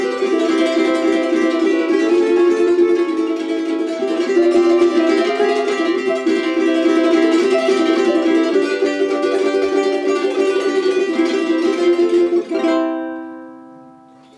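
A ukulele is strummed rapidly, with the fingers fanning on the downstrokes and the thumb taking the upstrokes, giving a dense continuous rhythm that ends on a ringing chord left to fade, played alone.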